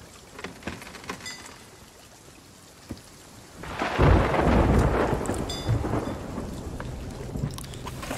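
Heavy rain and a thunderstorm sound in the Sea of Thieves video game, with steady rain noise and a loud, rumbling thunder crash that swells midway and slowly rolls off.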